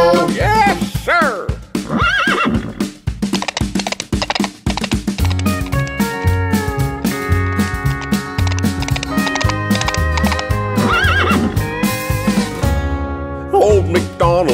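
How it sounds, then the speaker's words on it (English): A horse neighing in an Old MacDonald farm nursery rhyme for kids: a bright, loud whinny rises over a bouncy children's song with music and clip-clop-like percussion throughout. "And on his farm he has a horse, E-I-E-I-O. With a nay-nay here and a nay-nay there"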